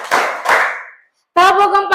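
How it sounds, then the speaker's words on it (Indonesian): A classroom group claps in unison, two sharp ringing claps in quick succession, each decaying in the room, then a brief silence and a voice speaking. "Tepuk 3 kali."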